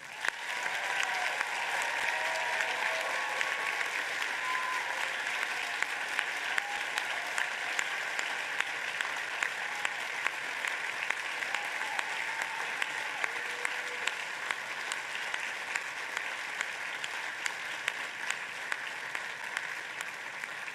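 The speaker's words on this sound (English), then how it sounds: "let's have one more round of applause for our graduates before we close" An audience at a Lynch School of Education graduate degree ceremony applauds its graduates in a dense, sustained wash of clapping that holds steady for about twenty seconds, with a faint tone lingering beneath.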